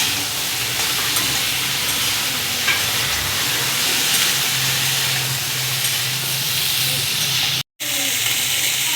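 Drumstick (sajna) stalks and potato pieces fry in hot oil, giving a steady, loud, broadband sizzle with a low hum that runs throughout the clip, broken by one brief dropout near the end.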